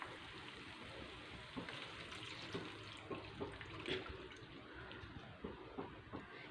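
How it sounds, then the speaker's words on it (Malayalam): Thin second-press coconut milk pouring into a pan of Kerala-style chicken curry, a faint, steady liquid trickle with small splashy bumps, heard close and quiet with no talking. "ആദ്യം നമുക്ക് 2ാമത്തെ പാൽ ചേർത്ത് കൊടുക്കാം"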